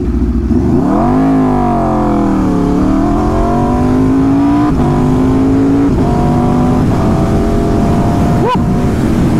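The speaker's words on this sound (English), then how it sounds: "Man, this exhaust sounds good." A loud Aprilia RSV4 motorcycle with a LeoVince LV Corsa exhaust revs up with rising and falling harmonic tones, then holds a steady throaty exhaust drone, with brief blips of throttle near the end.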